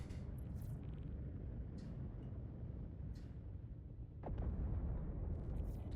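Missile launches from an RSI Apollo ship in the game Star Citizen, heard as a deep, steady rumble with a few short whooshing bursts and a louder swelling roar near the end, with no talk.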